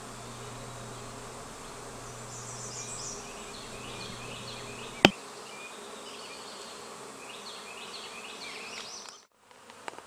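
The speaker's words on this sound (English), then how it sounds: "I'm out here with the bees, the honeybees" A swarm of honeybees hums steadily outdoors around newly caught hives, a dense continuous buzz with a sharp click midway, fading as the sound cuts out near the end.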